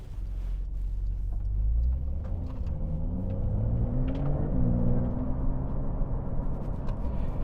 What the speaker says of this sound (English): Quite a noticeable change opening the valves there with the exhaust tone.